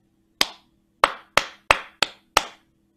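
Six sharp hand claps in a steady rhythm, each crisp and close with a short decay, standing alone against a faint low hum with no talking.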